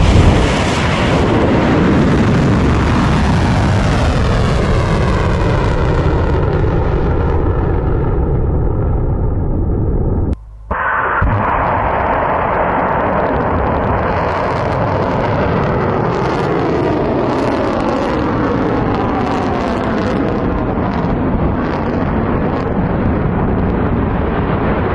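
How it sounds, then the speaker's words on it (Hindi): Iranian missiles streak overhead in a loud, continuous roar that drops steadily in pitch as they pass. After a brief abrupt cut, a heavy crackling rumble carries on, with no voices. "ईरान ने जो मिसाइलें दागी हैं, जो कामयाबी से सातों के सातों देशों पर हिट हुई है, उसका वीडियो भी जारी किया है ईरान ने"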